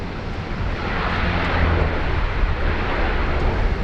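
An airliner arriving at Sydney Airport from Narrandera produces a broad, steady jet roar that swells slightly midway, heard at moderate distance with no talking.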